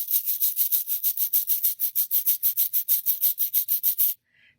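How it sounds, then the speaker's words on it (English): A cabasa played by hand, its beads rubbed against the metal part in a fast, even series of about twenty raspy scraping strokes, close and bright, then stopping abruptly. "This one is called a cabasa, and what I do with this one is I take my hand here and it's going to rub the beads against the metal part"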